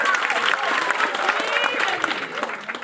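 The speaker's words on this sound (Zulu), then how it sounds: "Cela nishaye ihlombe leyo." Clapping from the audience at a Zulu gathering comes as a dense, fairly distant patter, with a voice singing or talking over it the whole time.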